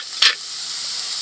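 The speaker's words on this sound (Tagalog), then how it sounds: "Ilagay natin yung na-marinate natin pork." Marinated pork drops into a pan of browned garlic and onion for Ilocano pork igado, giving one short loud burst of sizzle that settles into a steady, even frying hiss. No one speaks.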